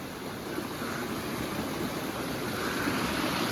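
Water pouring down a small waterfall in Hyderabad makes a steady, even rushing wash that stays constant throughout with no talk.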